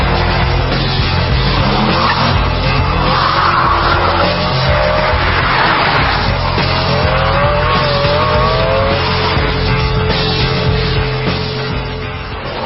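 Ferrari 612 Scaglietti with traction control switched off, tyres squealing in long wavering skids over a steady loud engine roar, continuous and close with no talking.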